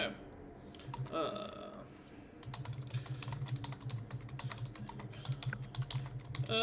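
Rapid clicking keystrokes on a computer keyboard during a tabletop role-playing session, a dense uneven run of taps near the microphone with a short voice sound early on.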